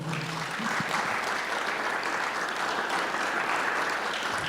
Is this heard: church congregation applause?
yes